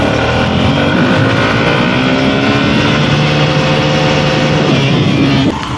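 A motorcycle engine pulls hard in second gear right after the upshift, its steady, loud drone rising in pitch as it accelerates close by, with no talking over it.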